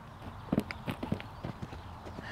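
A horse canters over raised poles in a schooling session, its hooves thudding in quick, uneven clusters of soft beats, fairly close, with faint background noise.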